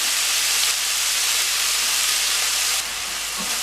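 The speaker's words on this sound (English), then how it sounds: "So now it's sizzling again, so it's frying." Chow mein fries in a hot pan, a steady bright hiss and sizzle that dips slightly near the end, with no talking.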